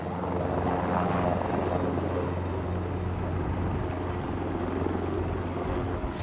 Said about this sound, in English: The only quick way to get here is by helicopter.